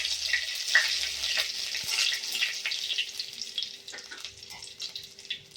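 Curry leaves and dried red chillies crackle and sizzle in hot coconut oil with popped mustard seeds, a soft steady frying hiss with small pops, fairly quiet and free of talk.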